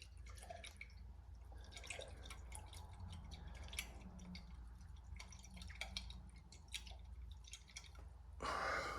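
Coffee being swirled inside a SERAC 24-hour ration pouch, heard as a steady run of soft, close liquid sloshes and drips lasting several seconds, with a brief louder rustle near the end.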